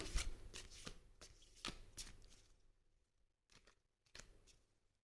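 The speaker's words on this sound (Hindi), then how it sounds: "जब मैं कार्ड शफल कर रही हूँ" A deck of cards riffled and shuffled by hand, several crisp bursts of rapid flicking close up, loud at first and then fainter with short pauses between shuffles.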